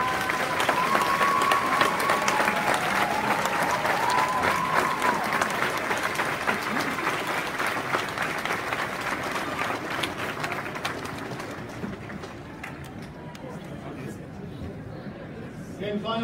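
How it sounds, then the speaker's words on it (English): Graduating seniors at an honors night stand and applaud their families in attendance, a long, even wash of clapping from a large crowd with cheers and chatter mixed in, gradually thinning toward the end. "give your loved ones in attendance a round of applause"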